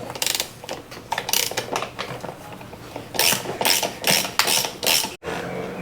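Ratchet wrench loosening bolts on a Honda Goldwing motorcycle, close rapid clicking bursts in uneven strokes with short pauses between, no speech.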